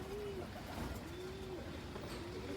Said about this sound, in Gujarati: કબૂતર તમને બતાવું